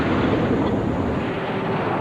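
A simulated mortar explosion, made by suddenly releasing a pressurized air tank submerged in water, roars as a continuous, loud broadband blast and rush of water and air.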